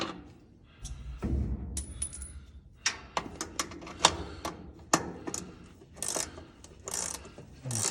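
A speeder wrench turning and loosening a bolt on a GMC 5500 flatbed truck, heard as close ratcheting and metallic clicks with scattered knocks and clatter, the rhythm irregular and sharp, with no talking.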